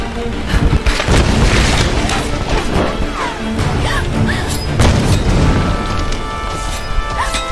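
Loud, continuous Tomb Raider game combat: booming blasts and crashing impacts mixed with rapid gunfire, with music and faint voices underneath throughout.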